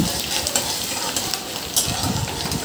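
Grated ginger masala fries in a pan for pav bhaji, a dense close sizzle with scraping stirs and small clinks throughout, with no clear talk over it.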